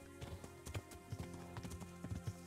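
Horse hooves clip-clop at a steady trot while riding in Kingdom Come: Deliverance, an uneven rhythmic patter of hoofbeats, fairly close but quiet, alone without talk.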